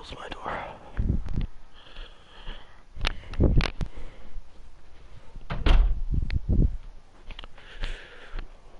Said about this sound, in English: I need to close my door